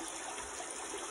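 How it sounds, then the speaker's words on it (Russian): Spring water running from a source into a bathing font, a continuous even trickling and splashing close by with no talk. "Отсюда вода течет в купель, там купаются, и дальше ручей"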